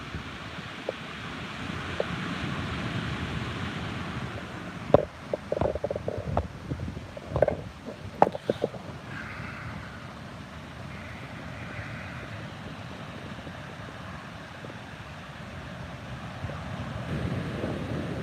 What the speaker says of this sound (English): I love these waves.